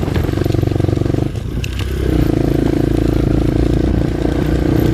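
Motorcycle engine runs steadily through a ride, loud and close, with a brief dip and drop in pitch near the middle before the droning note climbs and holds again.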